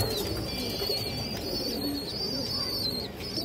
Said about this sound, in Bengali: দুটো কবুতর অনেক হাই কোয়ালিটির পুরনো ব্রাড লাইনের কবুতর